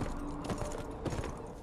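A horse being ridden along a path in the video game Beyond: Two Souls, with soft, rhythmic hoof clip-clops that are fairly faint and even in pace.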